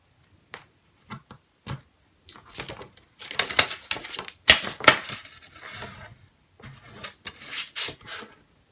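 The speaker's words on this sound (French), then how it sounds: "Je marque mon pli." A paper fold is scored for a pop-up slider card, heard as sharp scattered ticks and scraping taps, some quick and clustered, close by and irregular, with faint voice traces.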